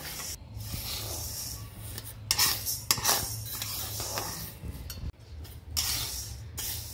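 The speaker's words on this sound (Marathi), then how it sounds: "सगळ्यात आधी आपण डाळ भाजून घेऊ।" Dry lentils (dal) are roasted without oil in a hot kadhai, stirred with a metal spoon that scrapes and rattles against the pan in close, steady bursts.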